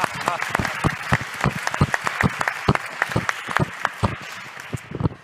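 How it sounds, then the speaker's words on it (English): Conference audience at a CEO talk applauds a guest, Jamie: a steady run of distinct handclaps, fairly close and loud, continues throughout with no talk over it. "You guys can applaud."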